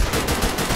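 Machine gun fire in Escape From Tarkov comes as a dense, continuous burst of rapid shots, loud and close, lasting under a second.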